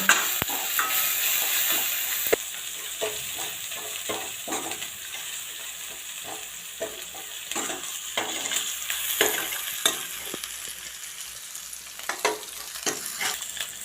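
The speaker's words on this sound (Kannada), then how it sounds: "ಸ್ವಲ್ಪ ಕರಿಬೇವು ಸ್ವಲ್ಪ ಜಜ್ಜಿರ ಅಂತ ಈರುಳ್ಳಿ ಬೆಳ್ಳುಳ್ಳಿ ಹಾಕ್ತಾಯಿದ್ದೀನಿ ಸ್ವಲ್ಪ ಫ್ರೈ ಮಾಡೋಣ" Curry leaves, crushed onion and garlic fry in a pan for a South Indian okra curry, a continuous close sizzle broken by frequent scraping stirs of a spatula against the metal.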